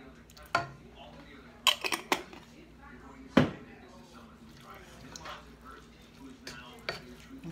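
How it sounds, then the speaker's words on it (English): Picante sauce is stirred into cooked meat in a pan: a spoon scrapes and clatters against the pan in scattered sharp knocks with soft wet squishing between them, close and fairly quiet. "Stir it around."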